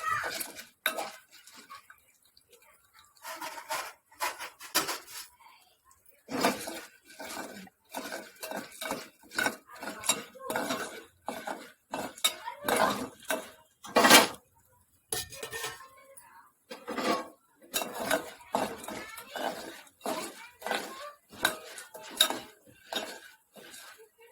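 Popcorn kernels stirred in a pot before popping, a busy run of rattling metal scrapes and clinks from a spoon against the pot, close and fairly loud, in uneven bursts across the whole stretch.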